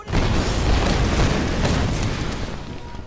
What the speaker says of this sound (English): and it goes boom!